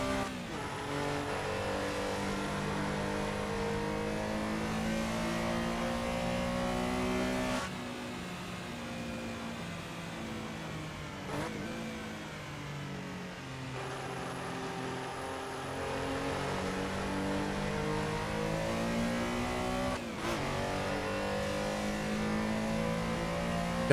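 A classic race car laps Lithuania's Nemuno Žiedas circuit, its engine droning loud and steady, then dipping and rising again through several gear changes, with no voices over it.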